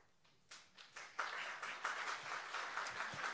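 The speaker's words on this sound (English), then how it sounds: "Don't applaud, please" Applause at a press conference builds from a few scattered claps into steady clapping from a small audience, heard at moderate distance.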